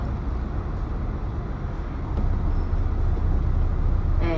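A Kowloon Motor Bus on route 69X, running from West Kowloon high-speed rail station toward Tin Shui, drives along with a continuous close rumble of engine and road noise that grows slightly louder midway, with no talk.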